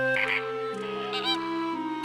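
Cartoon flamingos give nasal, honking calls in a quick series of tonal bursts, with bright wobbling upper tones and one short honk near the end, clear and close with no speech.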